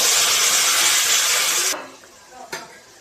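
Chickpeas tipped into hot tempering for Telangana-style chickpea curry give a loud, broad hissing sizzle that holds steady, then cuts off abruptly to a quiet background with a brief faint clatter.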